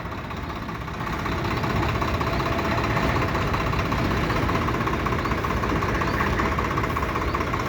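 A tractor engine idles steadily, a loud continuous low knocking rumble close by that swells slightly after the first second and holds with no talking.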